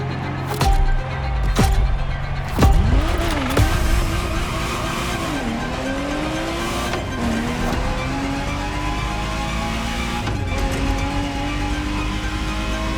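A Ferrari Testarossa engine revs loudly in The Crew Motorfest racing game. Pitch climbs and drops through gear changes, with a sharp tire squeal near the start and a steady engine drone throughout.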